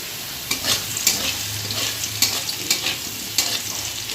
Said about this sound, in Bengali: তেলে দুটো কালো জিরে ফোড়ন দিয়ে আলুটা দিয়েছি, মোটামুটি ভাজা হয়ে গেছে।